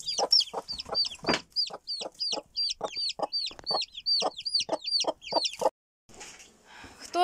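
A broody hen with a brood of small chicks clucks in rapid, steady repeated notes alongside high chick peeps, close and loud. A brief silence follows, then faint rain-like noise.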